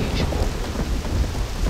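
Rain falls heavily in a thunderstorm in Black Desert Online, a dense continuous hiss with a low rolling rumble of thunder underneath, loud and steady throughout.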